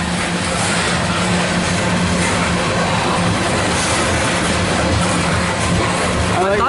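A loaded CSX coal train rolls past steadily and loud, a dense continuous rumble of wheels and cars throughout with no break, heard close by.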